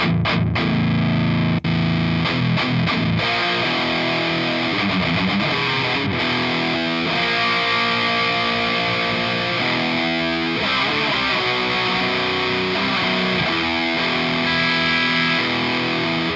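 Heavily distorted electric guitar runs through the gain stage of an NRG Nuclide tube amplifier, playing dense sustained chords and riffs loudly and continuously throughout, with no voices.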